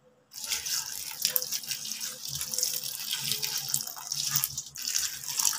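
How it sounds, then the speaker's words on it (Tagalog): Water poured steadily over one-peso coins being cleaned, a close, continuous splashing and trickling stream with no talk over it. "Buhusan natin uli ng tubig"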